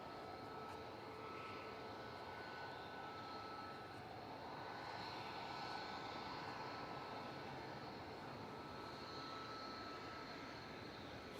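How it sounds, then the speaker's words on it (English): An Emirates jet from Dubai comes in over the runway threshold at Manchester Airport, a steady, faint, distant engine roar with a broad hiss that holds evenly, no voices present. "Emirates Flight 21 from Dubai, A6 EOX, just about to come over the threshold"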